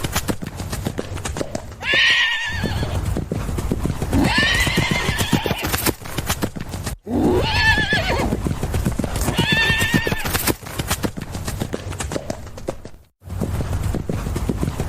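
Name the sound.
horse hooves clip-clopping and neighing, story sound effect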